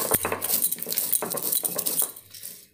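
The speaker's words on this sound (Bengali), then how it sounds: "ভাজা হতে হতে আমি মশলাগুলোকে এখানে গুঁড়ো করে নিচ্ছি।" Whole spices are ground coarsely by hand in a home kitchen while chicken with small new potatoes fries nearby, giving close, irregular clinks and scraping knocks in a steady working rhythm.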